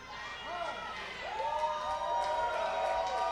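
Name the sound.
wrestling crowd cheering for Matt Hardy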